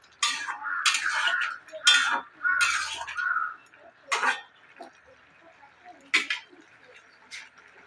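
Ridge gourd fritters stirred in a pan, several sharp clinks and scrapes of a utensil against the pan in irregular bursts, close and fairly loud, thinning toward the end.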